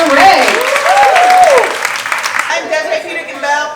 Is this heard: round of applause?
yes